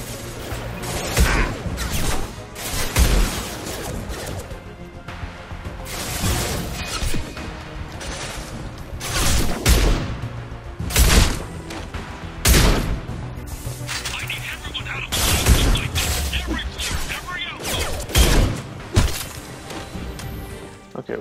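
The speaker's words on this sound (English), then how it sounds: "Oh wait, that's the shotgun." Shotgun fire in the Mass Effect 2 video game, a series of loud, sharp blasts at irregular intervals amid dense combat noise, with a voice speaking over the action.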